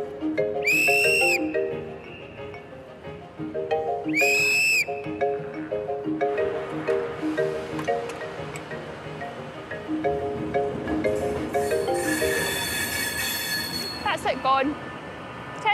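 A train pulls away from Central Station with rumbling wheels and metallic squeals, two sharp whistle blasts early on, and a high hissing screech near the end.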